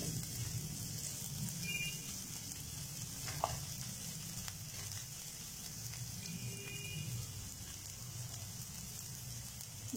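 Onion softening in a hot pan for a Chinese stir-fried chicken and sprouted beans dish gives a steady, even sizzle with a few faint utensil clicks, heard alone and close.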